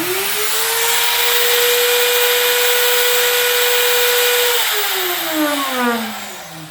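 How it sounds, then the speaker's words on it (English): The spindle of a home-built CNC router made from 80/20 aluminum framing whines loudly at a steady pitch under computer control, then winds down in a falling tone near the end. "Oh, and I have the spindle wired in too."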